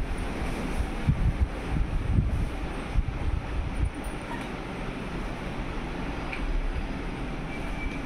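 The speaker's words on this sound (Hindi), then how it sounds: "ये देखिए कितनी तेज़ हवा चल रही है।" Strong wind after rain blows outdoors past a room, a steady broadband rush with gusty swells and low buffeting, moderately faint and alone with no talk.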